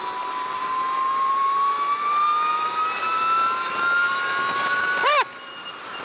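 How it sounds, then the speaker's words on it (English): High electric motor whine from an Energica Eva 107 electric motorcycle while riding on a winding road, a loud steady tone rising slowly in pitch with speed, then dropping abruptly near the end. "The kind of like supercharger whine sound is really loud."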